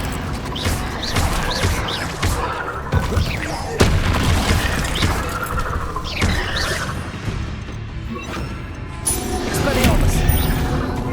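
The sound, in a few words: explosive spell blasts in Hogwarts Legacy video game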